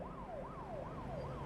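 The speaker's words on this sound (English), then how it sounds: "police cars in the background coming for me because of the bank fraud?" Police car sirens wail in a repeating rising-and-falling sweep, several cycles in quick succession, steady and moderately distant in an American Truck Simulator game scene, with a low engine hum beneath.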